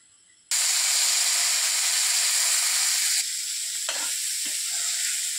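Dried Bombay duck and small fish frying in a hot pan, a loud steady sizzle that bursts in suddenly and holds, easing slightly later with a few stirring scrapes.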